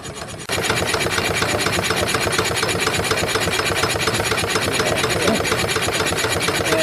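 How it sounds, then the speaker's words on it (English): A running model steam engine at a tractor show gives a steady, rapid mechanical chuffing and rasping rhythm close by, starting abruptly after a brief quieter moment and continuing without a break. "let's just take a quick look at the model steam engines"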